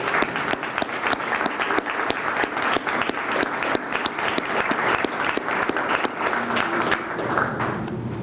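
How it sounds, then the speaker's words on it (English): Sustained, evenly dense audience clapping for high school students at a community event, loud and continuous throughout with no talking over it. "I'd like to give one more big round of applause for them"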